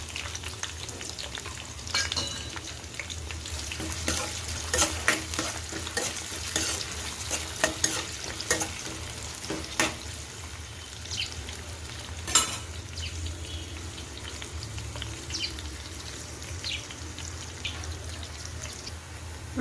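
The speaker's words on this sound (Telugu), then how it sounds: "ఇప్పుడు ఆనియన్ మగ్గిపోయింది కదా" Onions fry with spices in a pan for a curry, giving a steady close sizzle with repeated stirring scrapes and clatter, and no voice.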